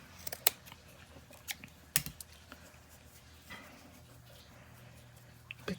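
Quiet, sparse snips of scissors cutting fabric at a craft table: a few sharp clicks spaced a second or so apart, close and soft, against a faint background hum.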